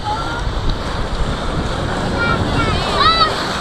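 Rushing, splashing water on the Kali River Rapids raft ride at Disney's Animal Kingdom, nearing a waterfall: a steady broadband wash with wind buffeting the microphone and a few faint shrieks near the end.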